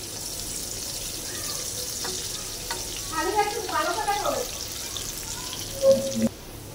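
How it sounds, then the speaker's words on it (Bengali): Greens tempered with dried chilli, onion and garlic in hot oil in a home kitchen, a steady sizzle with a few stirring knocks and a short burst of running water near the end. "এই যে তেলে দিয়ে এখন এই যে শাক বাগার দেবো"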